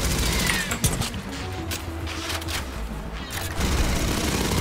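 Heavy, sustained gunfire from a big gun in Aliens: Fireteam Elite roars continuously and loudly, with a few sharper shots standing out from the dense barrage.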